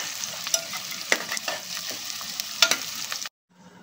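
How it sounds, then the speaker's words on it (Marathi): Onions sauté in a pan toward golden brown with a close, steady sizzle and scattered sharp stirring scrapes, then the sound abruptly cuts to near silence at the end. "कांद्याचा कलर हा थोडा गोल्डन ब्राउनिश व्हायला पाहिजे, छान असा परतून घ्यायचा।"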